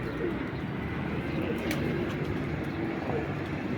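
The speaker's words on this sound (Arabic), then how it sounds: "ما شاء الله الحمام ذنك بين ينزل، تشوفوهن ما تشوفوهن" Pigeons coo amid a constant rush of strong wind outdoors, their soft calls faint and partly masked by the steady gusting.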